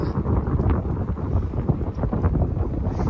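Wind blowing outdoors through trees hung with gunmetal-grey Spanish moss, a steady rumbling buffet across the microphone with small gusty swells and no talk.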